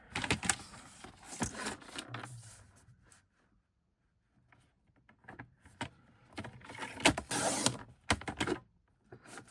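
Scissors cut a paper sentiment for a handmade tag, giving soft, close snipping and rustling in short bursts, with a pause of near silence in the middle.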